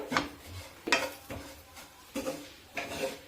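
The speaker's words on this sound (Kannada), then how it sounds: "ನಾನು ಸ್ಟವ್ ಆಫ್ ಮಾಡಿ ಧನಿಯಾ ಪುಡಿ, ಈ ಅರಿಶಿನ ಪುಡಿ ಹಾಕಿ ಚೆನ್ನಾಗಿ ಈ ಬಿಸಿಯಲ್ಲೇ ಸ್ವಲ್ಪ ಫ್ರೈ ಆಗುತ್ತೆ." A spoon stirs coriander and turmeric powder frying in a hot pan, giving five close scraping strokes in a steady rhythm over a faint sizzle.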